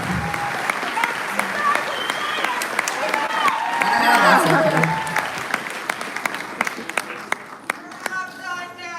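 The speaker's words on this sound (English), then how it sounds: "let's give a big round of applause for Elizabeth Ross and Beth Liston" Crowd applauding at a central Ohio town hall for a state senator, sustained dense clapping with some cheering swelling mid-way, then thinning into scattered claps; voices are heard talking over it near the end.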